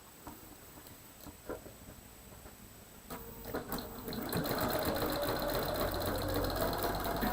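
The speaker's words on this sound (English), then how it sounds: "we're going to start stitching at the outer edge and move to the center and stop at that seam line once again" Sewing machine stitching quilt pieces, starting with a few soft clicks and then running in a steady, fast mechanical whir that grows louder and continues to the end.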